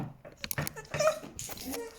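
A dog whimpers indoors in short, high, broken whines that come in uneven bursts close by, mixed with small rustling sounds.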